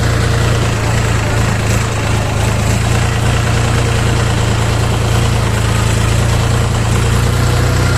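A Dongfeng 244 DHX mini tractor's diesel engine runs steadily at raised throttle, a loud, close, continuous low rumble with no break and no talking.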